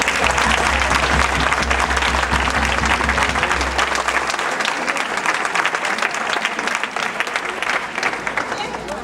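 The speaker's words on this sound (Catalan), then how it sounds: "Un aplaudiment per la Montse" A crowd applauds an embroiderer at the christening of a giant festival figure, with dense clapping and a low hum at first that drops away midway, the clapping continuing strong to the end.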